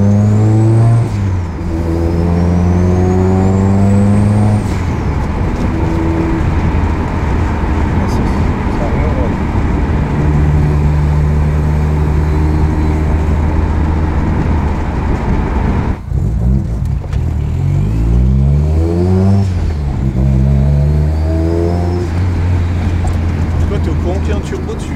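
Turbocharged 1.8 20-valve car engine idling and revving up on a dyno bench, a loud, steady drone broken by several sharp rev swells. Voices talk under it.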